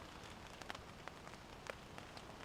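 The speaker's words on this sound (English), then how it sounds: "Just started to rain." Rain begins falling on a tent at night during a wilderness canoe trip, scattered drops tapping the fabric irregularly over a soft steady patter, near and fairly quiet with no talking.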